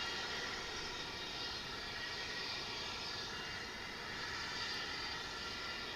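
An airliner inbound from Austin passes overhead near DFW International Airport, a steady distant jet engine roar that stays even and moderately faint throughout.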